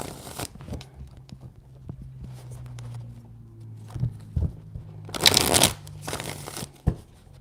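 Tarot cards are shuffled in several quick riffling bursts, with soft handling rustles between them and a low hum underneath.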